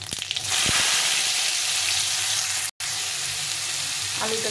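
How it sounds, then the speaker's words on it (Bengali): Potatoes fry with cumin seeds in a hot pan, a loud, steady broadband sizzle that jumps up after a brief opening clatter, with a short cut-out near the end. "আলুটাকে একটু ভেজে নেব"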